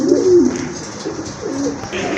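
Fancy pigeons of the Rajgolla and Koka breeds coo close by, several soft rolling coos spread across the moment over faint background hum.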